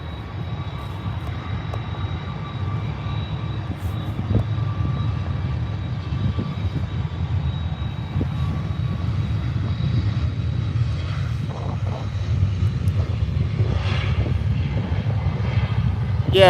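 Boeing 747 jet engines at Birmingham airport, a steady low rumble that holds for the whole stretch and swells slightly toward the end, moderately close and alone.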